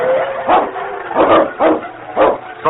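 A dog in a radio drama barks in four or five loud, close, hoarse bursts while fighting wolves in deep snow, with growling and scuffling noise between the barks.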